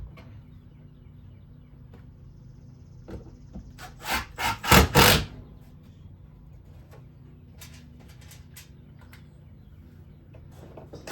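Screws being driven into reclaimed pallet wood boards on a garage wall, with a short cluster of loud, sharp bursts near the middle over a steady low room hum and a few faint clicks.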